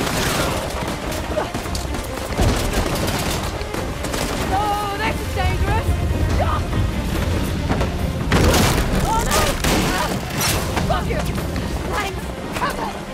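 Enemy gunfire in Uncharted: The Lost Legacy crackles in dense, overlapping bursts with booming impacts. It is loud and continuous over a churning game soundscape, with voices speaking over the top.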